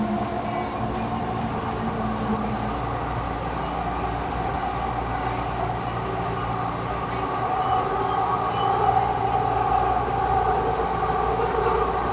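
An automated JFK AirTrain car bound for Jamaica hums and rumbles steadily from inside, with a constant tonal drone of motors and wheels that swells slightly near the end.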